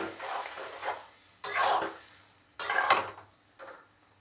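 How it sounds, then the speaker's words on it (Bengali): Spinach sautéing with mushrooms in a pan for a palak mushroom curry, with soft sizzling and stirring coming in several bursts close by over a low frying hiss. "এর মধ্যে পালংটা এর সাথেই সাঁতলে নিতে হবে, সেটাও ঢেলে দিলাম"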